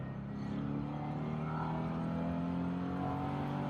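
A car fitted with an electric supercharger revs and accelerates, its steady engine drone sustained and loud throughout with no talk over it.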